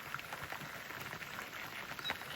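Light rain patters steadily around a small fishing shelter on a lagoon in the evening, a soft, even hiss of scattered drops with no voices.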